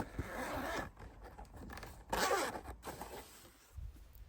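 A zippered case on a clip-on 35,000 mAh power bank for a Starlink Mini, its zipper dragged open in close, raspy strokes with a brief pause between pulls.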